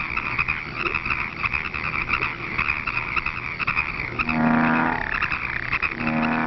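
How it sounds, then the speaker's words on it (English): Bullfrogs croak at a pond in an old 1952 nature film soundtrack, a rhythmic chorus of deep, throaty calls with louder drawn-out croaks near the end, over a band-limited hiss. "Bullfrogs are the largest of the American frogs."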